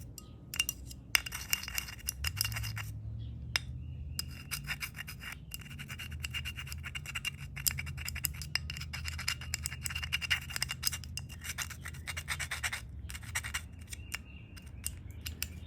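Scrubbing and scraping on a dirty carburetor part from a YFZ450 quad, a continuous gritty rubbing with quick metallic clinks and short pauses, close up and moderately loud.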